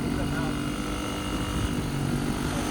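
A Honda CRX engine idles while warming up, giving a steady, even low hum close by that never changes pitch, with voices faintly present underneath.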